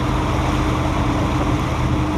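A boat travelling from Fort Pierce to Tampa runs on one of its two engines, making a continuous loud engine drone mixed with rushing water and wind noise, steady throughout with no voices.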